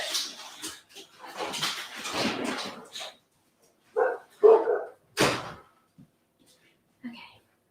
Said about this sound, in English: which means the dogs have gone nuts